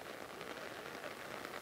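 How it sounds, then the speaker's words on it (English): Heavy rain pours down at an outdoor rugby match on a cold day, a steady, even hiss of falling water that runs unbroken through the short stretch, fairly faint and with no voices over it. "the rain thumps down here at the moment. It's really coming down in bucket loads."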